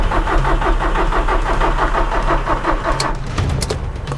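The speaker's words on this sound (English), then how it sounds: "I'm gonna give the car a start and see if that makes any difference" A cheap, smoking Audi TT under restoration cranks and runs, its engine a steady, loud mid-pitched churn throughout, alone without voices.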